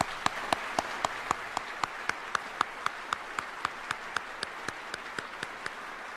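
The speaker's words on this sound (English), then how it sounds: "a round of applause for Kate, Patrick, Aiden," Applause for a retiring Army lieutenant general's family at a retirement ceremony, heard as a slow, evenly spaced run of single loud claps, fairly close and alone without talk.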